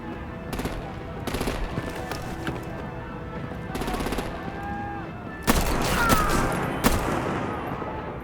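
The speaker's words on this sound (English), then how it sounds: "Break out the artillery and disable their vehicles!" Bursts of rapid gunfire in the game Batman: The Enemy Within, arriving in repeated volleys over a constant rumbling background, growing louder and denser toward the end, with some voices mixed in.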